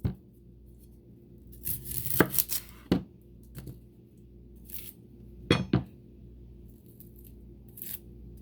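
Whole small onion being chopped in a PowerChef pull-cord chopper: several sharp clacking bursts of blades and plastic, irregularly spaced with quiet gaps, close and fairly faint.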